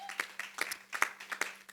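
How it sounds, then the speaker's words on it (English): A small scattering of hands claps for a music panel at an event, a sparse, fairly quiet run of separate claps in an uneven rhythm. "give them another round of applause"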